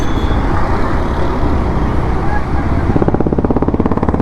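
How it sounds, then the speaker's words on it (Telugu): A Rajahamsa Karnataka bus passes in dense night traffic in Hyderabad's old city, a loud continuous roadway roar with engines rumbling close by and a motorcycle's rapid exhaust thud rising toward the end. "రాజహంస కర్ణాటక బస్సు ఇది."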